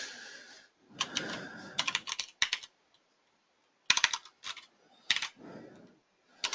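Keys on a computer keyboard clatter in quick clustered bursts separated by short pauses, crisp and close, with a little soft background rustle.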